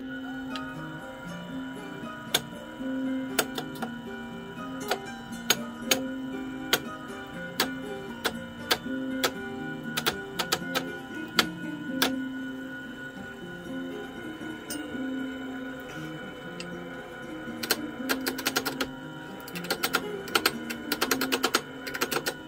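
A Grizzly T-32536 lathe makes its first cut, giving a steady motor whine overlaid with irregular, sharp ticking and clicking that runs throughout at moderate volume.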